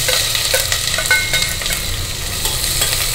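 Onion and a single green chilli sautéing with cardamom in a pan, a loud continuous sizzle and crackle with spatula scrapes throughout and no voices.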